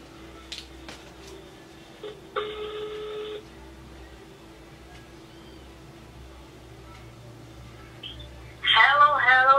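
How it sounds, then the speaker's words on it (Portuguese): A phone dials out to a reader: a brief run of keypad tones stands out over quiet room hiss, followed by a few faint beeps, and a voice comes in near the end. "Vamos ligar pra ela."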